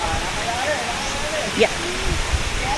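Hagimit waterfall on Samal Island, with a man-made pool nearby, gives a steady broadband rush of falling water, with faint voices and a brief spoken word over it.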